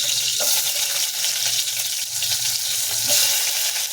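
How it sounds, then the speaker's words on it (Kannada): Chopped onion with green chillies and curry leaves frying in a pan for tomato thokku, a steady close sizzle with occasional stirring scrapes throughout, no voices. "ಚೆನ್ನಾಗಿ ಫ್ರೈ ಆಗಲಿ ಈರುಳ್ಳಿ"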